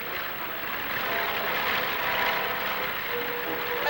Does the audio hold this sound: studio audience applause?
no